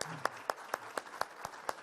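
An audience at a school-meals conference applauds women of Latin America and the Caribbean. The claps are sparse and evenly spaced, roughly four per second, moderately near, with no speech over them.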